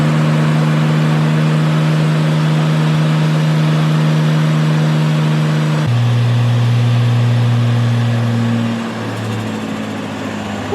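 A Nissan R33 Skyline engine fitted with a small journal bearing turbo holds a loud, steady high rev with a strong droning tone, then steps down and settles lower as the revs drop toward idle.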